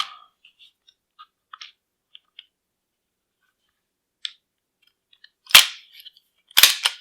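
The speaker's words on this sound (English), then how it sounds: "We drop the slide back on the frame." Slide of a Colt 2000 pistol dropped back onto the frame, heard as small scattered metallic clicks followed by two sharp, close metal clacks near the end.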